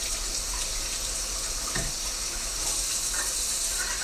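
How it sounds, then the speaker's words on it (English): Tap water runs steadily into a kitchen sink while a blender jug and its bottom blades are rinsed, a continuous hiss with faint clinks of handling, no talking. "the blades in the bottom, you've got to rinse them off"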